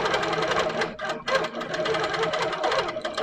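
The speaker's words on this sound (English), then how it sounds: "Just want to just check that this is stitching okay." A quilting sewing machine set to 75 stitches for ruler work stitches steadily with a freshly loaded bobbin, a dense continuous mechanical hum and rattle with a brief pause near the middle, loud and close, no voices.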